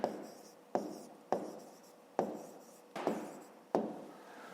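A pen or pencil writes a math answer on paper in a series of six distinct scratchy strokes, each starting sharply and fading, close and fairly quiet with short gaps between.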